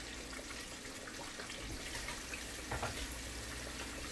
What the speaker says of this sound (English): I'm going to add in a little bit more water.